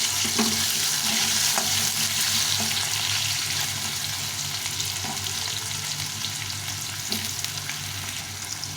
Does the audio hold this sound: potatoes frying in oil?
yes